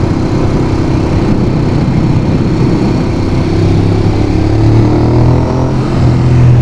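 A Ducati Monster 821 L-twin motorcycle engine runs close and loud with a deep throbbing rumble that swells slightly toward the end, heard alone without voices.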